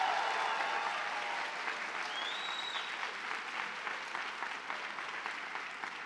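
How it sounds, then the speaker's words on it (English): Audience at a nursing college graduation ceremony applauds armed forces members, a dense, steady wash of many hands clapping that holds evenly throughout. "Let's have a round of applause for them as well."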